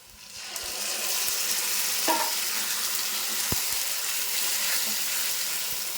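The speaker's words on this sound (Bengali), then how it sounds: "আমার পেঁয়াজটা পুরো লাল লাল করে ভাজা হয়ে গেছে এখন দিয়ে দেবো পেস্টটা" Onions browned with spice paste sizzle in a pan after a quiet start, settling into a steady hiss broken by a few clinks of a utensil against the pan.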